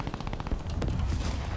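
Enemy gunfire in the War Thunder tank game, a rapid volley of sharp cracks and booms in quick succession, fairly close and punchy, with no talk over it.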